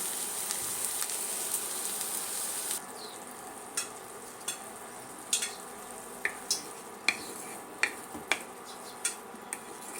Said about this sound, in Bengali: ভালো করে ভেজে নিব পেঁয়াজ চিংড়ি মাছ